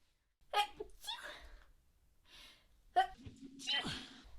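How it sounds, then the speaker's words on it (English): A sharp sneeze bursts out, followed by a few gasping breaths and another forceful sneeze with a throaty tail, close and fairly loud. "To sneeze."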